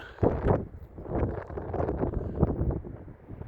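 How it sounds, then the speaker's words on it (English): Wind gusting across the Jubilee golf course at St Andrews, a rough low rumble buffeting the microphone in uneven surges with no clear voice or other sound on top. "I'm liking this wind behind me"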